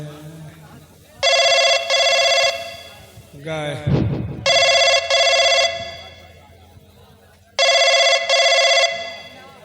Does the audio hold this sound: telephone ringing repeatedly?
yes